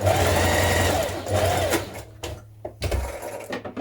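A sewing machine stitches a knit dress from a Butterick 6858 pattern, a loud, close motor hum running for nearly two seconds before slowing and stopping, followed by short stop-start bursts as the fabric is pivoted.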